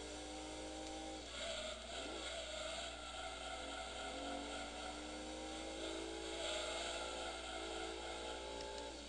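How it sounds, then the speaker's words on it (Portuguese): A Subaru Legacy in Gran Turismo 2 races along with its engine droning near the rev limiter, pitch rising and stalling in repeated sweeps, steady and fairly quiet with no voices. "Tô deixando o carro cortar o RPM, não é bom isso."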